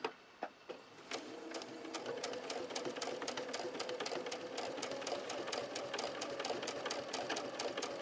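A sewing machine stitches quilt pieces along a marked line, starting with a few needle thumps and then settling into a fast, steady, close mechanical chatter that runs continuously without talk.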